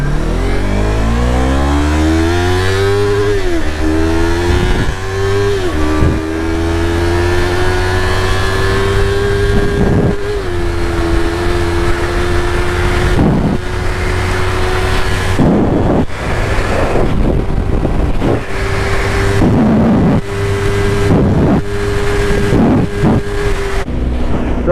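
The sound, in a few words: Yamaha R3 motorcycle accelerating through gears near rev limiter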